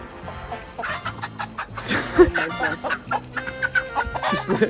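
Chickens cluck repeatedly in a busy, close-up flurry, with short sharp calls layered over a low background hum.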